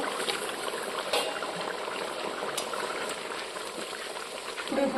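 A jackfruit and egg curry simmers in a pan as eggs are added, giving a steady soft bubbling and sizzling hiss at low volume with a faint clink near the end.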